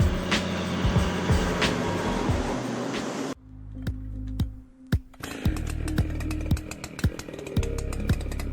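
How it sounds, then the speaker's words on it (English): A Stihl MS 881 chainsaw with a 67-inch bar and an 8.7 horsepower engine cuts into a tree. Its loud engine drones and surges, dips briefly to a quieter idle, then roars back up, with sharp cracks and knocks throughout. "Now here's a chainsaw that means business, the Style MS-881."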